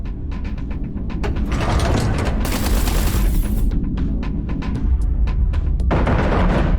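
Artillery fire on an enemy carrier in the space shooter Everspace 2, a dense rattling barrage of rapid bursts over a deep rumbling roar, loud and continuous, with no voices.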